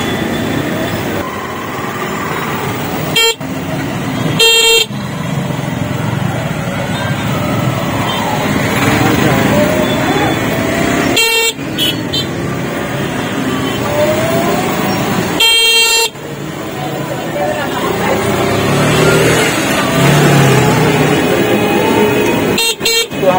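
Jammed road traffic at the Raxaul–Birgunj India-Nepal border crossing near the customs bridge, with a steady rumble of engines and repeated sharp car and truck horn blasts scattered throughout, some close and loud.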